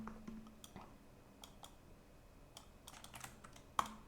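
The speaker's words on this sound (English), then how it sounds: "So let's just type set show" Fast, light keystrokes on a computer keyboard while setting up menu controls for an Unreal Engine 5.1 project, scattered irregular taps close by with a sharper click near the end, no talking.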